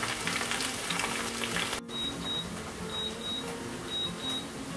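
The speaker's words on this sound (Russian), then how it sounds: "И на среднем огне жарим" Smoked chicken thighs fry over medium heat in a pan with a steady, continuous sizzle, and a short clatter midway as something is moved.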